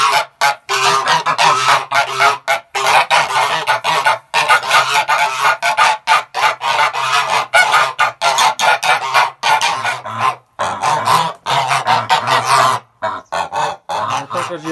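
Dense, continuous honking from a flock of geese, loud and close, with overlapping calls and brief gaps throughout.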